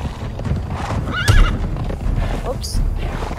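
Horse hooves clip-clop steadily in the video game Conan Exiles, with a clear whinny rising briefly in the middle and another short neigh near the end, all under continuous talking.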